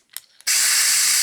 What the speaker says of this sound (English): I like to take my air compressor,